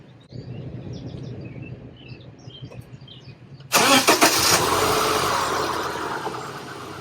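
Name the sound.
car engine starting with ACMOUNT jump starter, then idling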